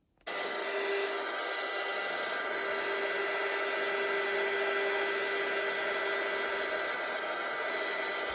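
A hair dryer blows steadily on hand-painted acrylic paint on canvas, switching on at the start and running as a loud, even whoosh with a constant motor whine, no talking.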